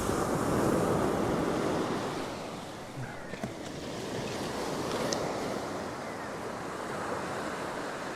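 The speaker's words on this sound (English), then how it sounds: "Got some nice water up along the side of the log. Here comes a double wave." Ocean waves break on Dundowran Beach with a steady surf roar that swells at the start, eases slightly, then holds even, with wind buffeting the microphone throughout.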